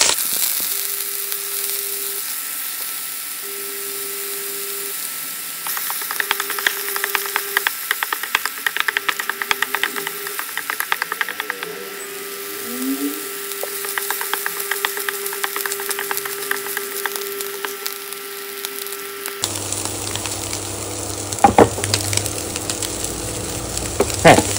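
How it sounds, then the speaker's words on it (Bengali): Prawns fry in hot oil in a kitchen pan, crackling and spitting in intermittent bursts over a steady low hum, loud and close with no voices. "চিংড়ি মাছটা ভাজা হয়ে গেছে।"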